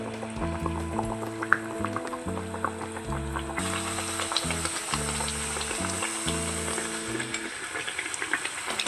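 Instant sesame ariselu, a sweet made from rice and jaggery, fry in oil with a steady, dense sizzle and bubbling that runs the whole time, close and even, with soft background music underneath.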